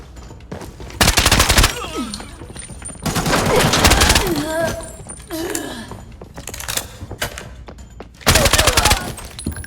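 Automatic gunfire in the video game Arena Breakout rattles in several loud, close bursts of rapid shots, separated by quieter stretches where a player talks and chatter is heard.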